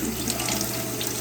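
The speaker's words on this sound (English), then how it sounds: "I just rinse it with cool water to rinse all the whey off" Cool tap water pours steadily into a sink while rinsing cottage cheese curds, a close, continuous splashing rush with no talk.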